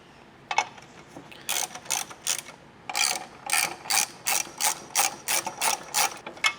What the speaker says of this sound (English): Now we can take the ratchet,